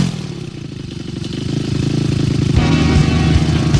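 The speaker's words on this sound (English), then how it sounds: "let's rev them up!" Hot rod engines rev together in a loud, chugging rumble that climbs and intensifies, with rapid throbbing pulses growing heavier toward the end.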